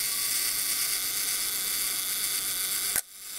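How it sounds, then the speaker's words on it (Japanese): Self-timer mechanism of a 1958 German-made Leica M3 single-stroke rangefinder camera buzzing steadily for about three seconds, ending in a sharp shutter click, close and alone. "ここでセルフタイマーもチェックしていきます。"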